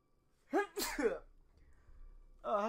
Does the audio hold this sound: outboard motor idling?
no